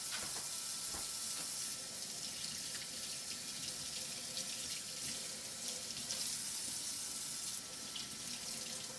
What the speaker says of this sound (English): Just going to give these a quick rinse with some cool water.